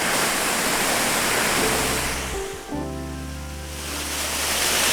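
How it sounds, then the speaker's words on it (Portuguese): Artificial garden waterfall pouring steadily into a small pond, a loud continuous broadband rush of falling water that dips briefly midway before swelling back, with no voices. "Não é uma cascata natural, mas é uma queda de água aqui bastante simpática."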